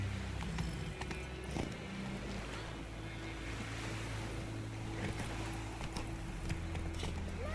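Roach the horse gallops in The Witcher 3, a steady run of hoofbeats over a constant wash of wind and ambient noise, with a few sharper knocks standing out.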